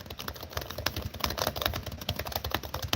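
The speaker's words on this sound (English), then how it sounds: "For example, these are the things I'm typing." Fast, continuous typing on a computer keyboard in Microsoft Word, a dense patter of close key clicks with no pauses and no voices.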